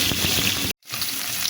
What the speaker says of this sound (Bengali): ডিমটা কড়াইতে দিয়ে দিয়েছি